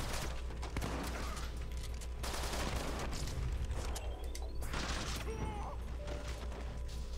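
Gunfire from the action video game The Bourne Conspiracy: bursts of shots and crashing impacts come in several clusters over a constant loud backdrop of game noise and music.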